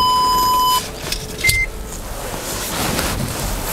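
A Toyota hybrid car being started: a steady electronic tone, then a short higher beep, before the cabin settles into quiet, even background noise with no engine roar.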